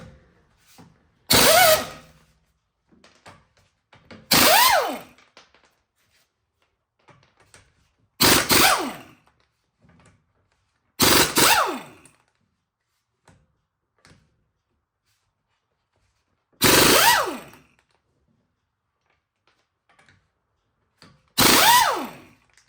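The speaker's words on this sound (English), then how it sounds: "Take your impact, take the wheels off" An impact wrench removing the wheels of an MK6 GTI, firing six separate short, loud bursts at irregular intervals with quiet gaps between them, each burst rising and falling in pitch as it runs.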